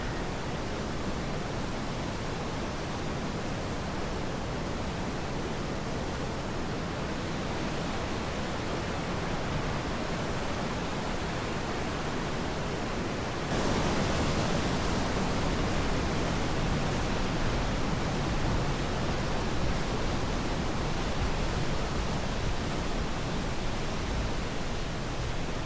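Steady broadband rush of Margaret Creek flowing past on a hiking trail, constant and enveloping, growing slightly louder partway through, with no voices.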